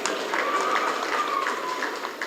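Audience at an outdoor political rally in Songwe breaking into applause, a dense patter of many hands clapping at once, continuous and fairly close, with a voice faintly mixed in.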